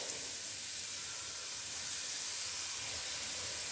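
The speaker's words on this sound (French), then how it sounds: "Alors là, je vais mettre tous les légumes, poireaux, carottes râpées," Leeks, grated carrots and courgettes sizzle in a pot for Chinese soup, a steady, close, moderately quiet hiss of frying that holds without a break and with no voices.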